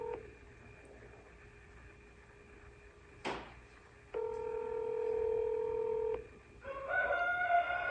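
A telephone call is placed and rings out: quick dialing beeps and a click, then a long, steady ringback tone at moderate volume, followed by a different, warbling line tone.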